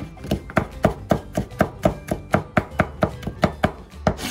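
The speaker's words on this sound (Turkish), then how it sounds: "ince ince doğruyorum" A knife finely chops two garlic cloves on a board while okra fritters are being prepared, giving a steady run of about sixteen quick, crisp close taps at an even rhythm with no talking.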